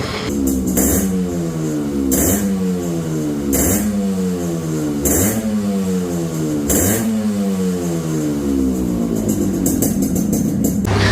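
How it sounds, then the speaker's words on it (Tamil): A stock Yamaha RX100 two-stroke motorcycle engine blipped repeatedly, each rev rising and falling in a steady cycle of about five swells over a constant idle, loud and close with no voices. "ஸோ இந்த வண்டியோட பீட் சவுண்டு கேட்டிங்கன்னு நினைக்கிறேன்"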